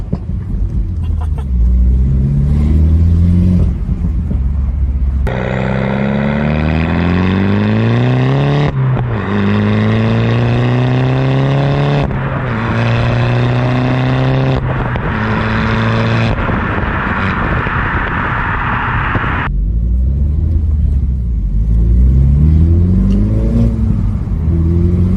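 A Mini John Cooper Works engine revs hard through several rising pulls, with sharp exhaust pops and crackles between shifts, loud and close.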